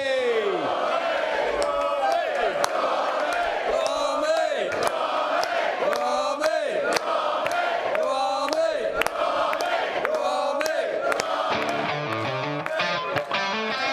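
A crowd shouts and cheers a football chant in rhythmic bursts, loud and sustained, with whistles and cries mixed through the din.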